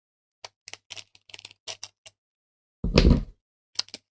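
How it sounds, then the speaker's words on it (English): Scissors cutting a snack package: a series of sharp little snips and clicks, then a short crinkly rustle and two final clicks, close and quiet. "gonna need the scissors for this one"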